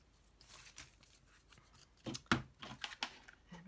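Scissors snip through a piece of black paper being cut into small index cards, quiet at first and then a few sharper, louder cuts close by with a papery rustle between them.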